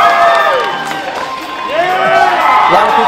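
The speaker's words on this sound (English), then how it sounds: "A lot of people cheering, as you can tell." A crowd at a Comic-Con event cheers and whoops loudly, with overlapping shouts rising and falling throughout.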